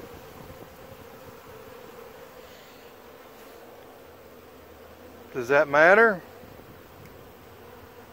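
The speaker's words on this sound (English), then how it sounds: "Those bees are touching each other. Varroa can jump from one bee to the other while they're at your watering hole." Honey bees hum and buzz softly at a watering hole, a faint continuous drone in the background, with a person briefly speaking partway through.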